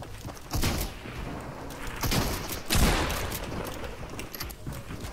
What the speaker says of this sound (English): I start getting shot at from the side